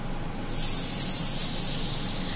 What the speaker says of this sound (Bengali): আপাতত এই যে ডিম আর চিংড়ি মাছটা ভেজে তুলে নিই।